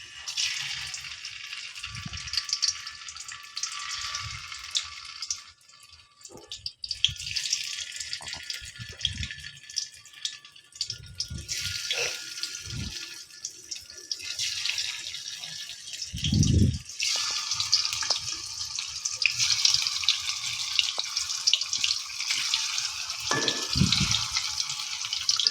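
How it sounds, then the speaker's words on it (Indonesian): Raw tofu dropped into hot oil in a wok, giving a steady, fairly quiet sizzle and crackle throughout with occasional low thumps and clatter, no voices. "setelah minyaknya panas, kita jatuhkan tahu mentah ke dalam wajan."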